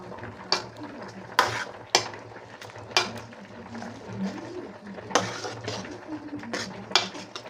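A curry is stirred with salt and tamarind water in a pot, with repeated sharp clinks and scrapes of a spoon against the metal rim and a soft wet churning between strikes, close by and irregular.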